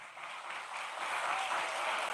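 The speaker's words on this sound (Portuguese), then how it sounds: "Vamos aplaudir a palavra de Deus?" Church congregation applauding during a Portuguese-language sermon, a steady wash of many hands clapping that swells slightly toward the end, moderately distant and even, with no voices over it.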